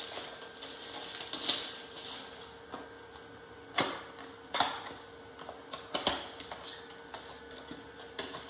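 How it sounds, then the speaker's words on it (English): Plastic packaging and a HIFU device cartridge being opened by hand, giving scattered creaks, clicks and rustling snaps with a few sharper cracks, close and fairly quiet, with no talking. "I'm just going to open this one and see what it looks like."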